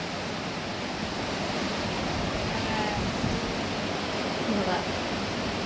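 Rain falling with gusting wind outdoors in the evening, a dense, steady broadband hiss and rush that stays loud and even throughout without pause.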